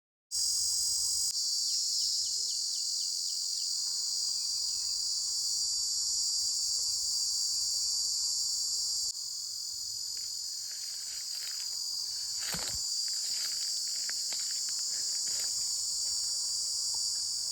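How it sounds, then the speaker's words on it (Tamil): A cicada or cricket in a garden drones continuously and loudly in a high-pitched buzz, close by, with brief soft ticks and a sharp knock partway through, no voices. "அந்த சில்வண்டை எங்களோட தோட்டத்துல முதல் முறையா பார்த்த அந்த ரீங்கார சத்தத்தையும் நான் கேட்டேன்"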